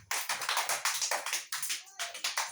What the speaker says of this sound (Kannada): ದೀಪಕ್ ಜೋರಾಗಿ ಚಪ್ಪಾಳೆ ಹಾಕ್ರಿ ಎಲ್ಲಾರು.